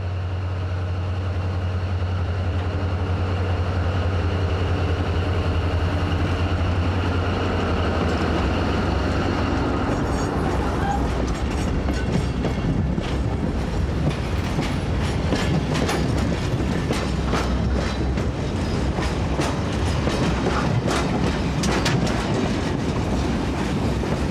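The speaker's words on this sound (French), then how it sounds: "le diesel de l'entreprise vient prendre une rame chargée des éléments de la nouvelle voie" Diesel work train on the SNCF Causses line coming to collect a loaded rake of new track elements, a steady engine drone giving way to continuous rolling wheel clatter and rail noise, close and loud without voices.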